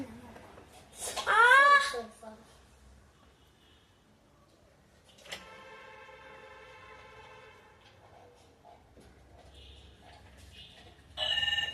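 A telephone rings in a gently trilling pattern over low background hum, with a short burst of speech at the start and another voice sound at the end.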